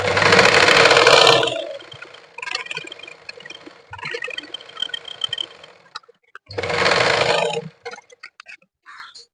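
Two loud bursts of a sewing machine stitching the main and lining cloth of a blouse, about a quarter inch from the edge, with quieter handling ticks and rustles between the runs.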